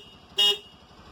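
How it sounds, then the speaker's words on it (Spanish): A single short, clear honk sounds from the horn of an early-production Bajaj Qute quadricycle, sharp and close against a quiet background. "acá está el botón de claxon"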